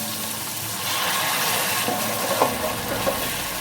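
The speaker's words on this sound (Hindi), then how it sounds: "इसमें मैं अभी थोड़ा सा साथ ही पानी भी डाल दूंगा ताकि प्याज टमाटर सब्ज़ मिर्च अच्छे से नरम हो जाए।" Water poured into a cooking pan of onion, tomato and green chilli masala for a matar chicken curry, a steady splashing pour lasting a few seconds with light sizzle and bubbling, close and fairly loud, no talking.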